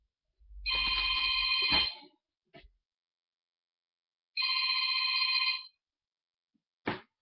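A mobile phone rings in two electronic bursts of a bright trilling tone, each lasting over a second, close and clear in a quiet room, with brief handling clicks between.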